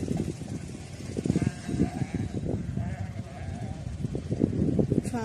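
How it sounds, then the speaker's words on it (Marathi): Flock of sheep stopped at water to drink in a rain-greened forest area, bleating repeatedly in overlapping calls at close to mid distance over steady background noise, with a vehicle running nearby. "इथं सुद्धा मेंढ्या आहे ना सर्व पाणी पिण्यासाठी थांबलेल्या आहेत बघा"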